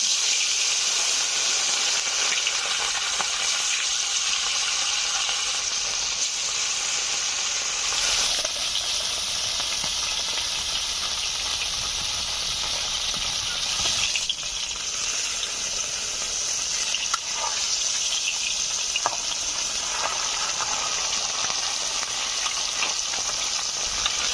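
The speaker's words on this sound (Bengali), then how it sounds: "তেল গরম হয়ে গেছে, মাছগুলো ভেজে নিচ্ছি" Bata fish fry in hot mustard oil in a village-style kitchen, a loud, steady hiss and sizzle lasting throughout with small shifts in intensity and occasional faint clinks, no voices.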